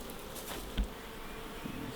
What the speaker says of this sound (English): So there's all the nice nest bees.